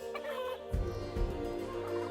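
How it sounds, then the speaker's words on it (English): A Sussex chicken in the video game Planet Zoo clucks and gobbles in a few short bursts, moderately close, with a steady ambient hum from the game underneath and no talk. "So there we have the Sussex chicken."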